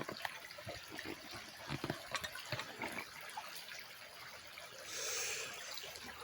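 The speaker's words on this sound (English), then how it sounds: "We got running water, agua. This is usually a stream, pretty good one, but today it's really slow." A slow-running stream trickles faintly outdoors, a soft, quiet burble with scattered small splashes and a brief swell of rushing water near the end.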